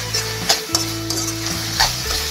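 Oyster mushrooms frying in oil in a pan with coriander leaves as they are stirred in: close, steady sizzle under several sharp scraping stirs, with faint background music.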